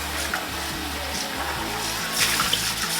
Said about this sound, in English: Just rinse everything out real good.